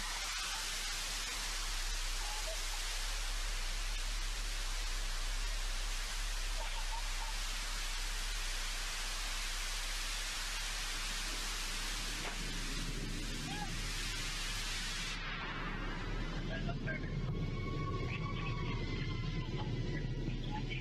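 Blue Origin New Shepard booster rocket engine relights during landing, a loud, continuous broadband roar that cuts off abruptly near the end, leaving a quieter low rumble.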